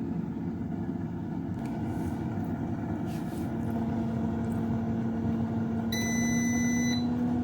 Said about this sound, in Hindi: इस तरह से इसमें अलार्म बोल रहा है।